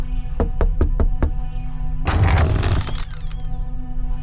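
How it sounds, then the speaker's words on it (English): Several sharp knocks on a door come in a quick series over a steady low hum, followed by a louder burst of rustling and clattering noise. "But now, a knocking at the door was heard."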